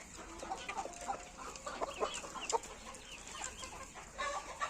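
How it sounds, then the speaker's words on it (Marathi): Pure desi gavran hens and a breeder rooster cluck and call in a farm shed at dusk, scattered overlapping calls at moderate distance with soft ambient noise. "आता संध्याकाळ व्हायला लागलेली त्यामुळे काही कोंबड्या शेडमध्ये आलेल्या आहेत"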